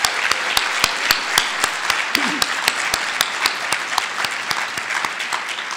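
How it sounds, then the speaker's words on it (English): A large conference crowd applauds staff and volunteers, sustained dense clapping with distinct sharp claps from nearby hands standing out regularly over the roar, and a brief voice cutting through midway. "we owe TLPI, Jerry, Sarah, Kelly, all the staff, all the volunteers, a round of applause for doing an incredible job."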